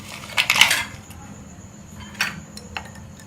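Ice cubes drop into a glass of mint lemon juice, giving bright clinks and taps: a quick cluster of rattles comes first, then a few single clinks spaced out, close by and fairly quiet.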